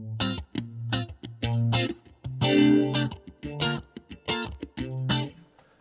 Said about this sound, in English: So add in a phaser 90.